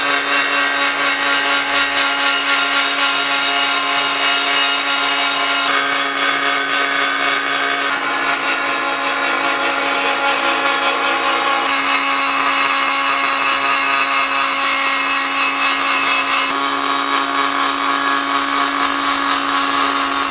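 A power tool grinds steadily over a cast sculpture during fettling, a loud continuous whine that shifts slightly in pitch as pressure and position change, with no talk.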